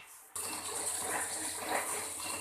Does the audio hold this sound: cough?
no